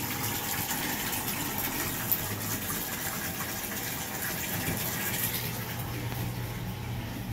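A jacuzzi fills with water in a home, a steady, continuous gush and splash of running water holding at an even level throughout, with no voices over it.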